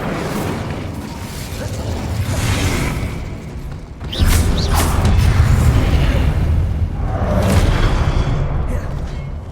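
Spell-casting blasts in the video game Hogwarts Legacy, a sharp booming burst partway through followed by rumbling, whooshing magical impacts over a continuous combat din.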